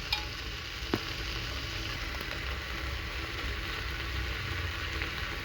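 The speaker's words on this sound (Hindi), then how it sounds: "और इन सारे मसाले को हम अच्छे से मिक्स कर लेंगे" Steady frying sizzle as spices are stirred into potato and cluster bean curry in a pan, with a couple of soft spoon scrapes near the start and no talking.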